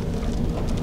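Steady rain pours down in Davao City, a dense even hiss with low rumbling beneath, continuous through the brief moment with no voices.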